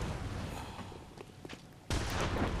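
An enemy cannon fires in the Bloodborne video game, a sudden heavy boom that cuts in over a dense layer of game noise with scattered smaller thuds and footsteps before it, loud and near.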